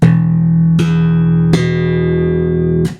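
Three plucked notes ring out on a Marco TFL 4 electric bass played with flat EQ, both pickups on and full volume, each loud attack sustaining and decaying before the next.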